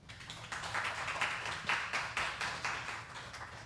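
An audience claps together in a steady burst of applause for nearly four seconds, fairly close and even in loudness.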